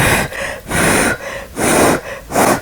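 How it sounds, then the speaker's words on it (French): Four strong breathy exhalations blown out in a slow, even rhythm, each lasting about half a second with short pauses between, very close and loud. "Vous soufflez un peu."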